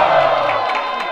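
A crowd at a rap battle roars and whoops in a short, loud burst of cheering with scattered clapping, voices shouting together close by.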